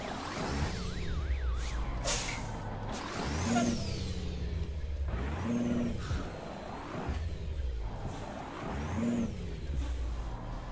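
Truck air brake hisses repeatedly between engine revs in Euro Truck Simulator 2, a few sharp bursts of air over a steady rumbling engine with a whining turbo.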